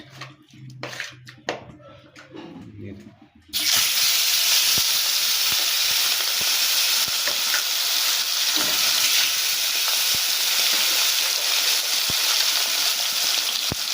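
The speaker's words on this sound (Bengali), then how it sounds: "তো মাছগুলো ভাজা হোক" After a few seconds of talk, a loud, steady sizzle of catla fish pieces frying in hot oil starts abruptly and continues with occasional pops and crackles.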